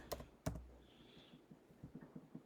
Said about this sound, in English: So you type in snip.